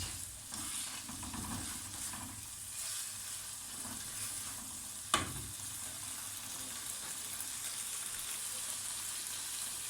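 Minced meat sizzles and fries steadily in a pan on high heat, constant crackle throughout with one brief clink partway through.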